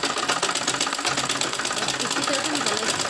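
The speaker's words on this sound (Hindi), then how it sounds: "इस पे 2-3 बार सिलाई लगाएंगे डोरी पे इस तरह" A sewing machine stitches a drawstring onto the neckline of a katori blouse, its steady rapid mechanical whirr running continuously at close range with no pauses.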